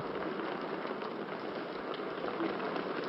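Steady, dense rain hisses continuously at an even level in a village, with no voices and no breaks in the downpour.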